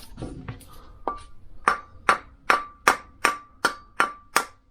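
About nine evenly spaced, ringing metallic taps drive a bevel gear into a British Seagull outboard motor. The taps are close and sharp, each with a short ping, and no other sound is heard.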